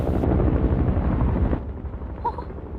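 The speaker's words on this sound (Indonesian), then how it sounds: "Ternyata itu adalah helikopter penyelamat yang mencari orang-orang yang masih" A rescue helicopter in the film Alive (2020) roars loud and close with dense rotor thump, then eases back and grows quieter after the first moment, still throbbing steadily.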